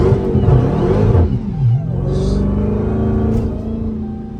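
A Chrysler Hellcat with a very loud aftermarket intake pulls away from a traffic light, its engine roaring close by as the revs climb, dip and rise again.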